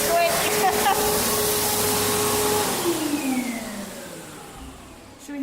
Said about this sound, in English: Good old hand dryer.